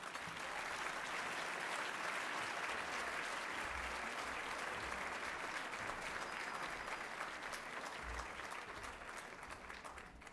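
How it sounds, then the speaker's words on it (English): A long round of applause for Congressman Earl Blumenauer at an awards dinner, a dense, steady wash of clapping from a large audience lasting about ten seconds with no talk over it. "Let's give him a round of applause for his strong support and leading efforts on TPA."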